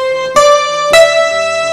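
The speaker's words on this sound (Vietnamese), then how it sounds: "Đó các bạn thấy tiếng đàn tranh với tiếng violon trộn lại nhau này." A Kurtzman K250 home keyboard plays a layered zither and violin voice, two sustained notes each beginning with a bright plucked attack and then holding steadily, close and loud with no speech.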